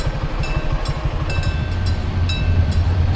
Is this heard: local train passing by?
yes